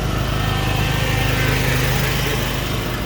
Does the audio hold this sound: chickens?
no